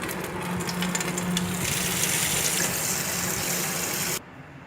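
Thoothuvalai leaves are washed under a steady stream of running tap water that splashes into a sink, then stops abruptly near the end.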